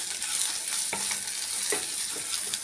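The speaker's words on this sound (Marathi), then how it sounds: "अजून थोडं वरून टाकते आणि चांगलं हलवून घेते." Turmeric, coriander powder and red chilli powder are stirred in a pan of hot oil, with a steady sizzle and scattered scraping strokes of a spoon, close by and without talk.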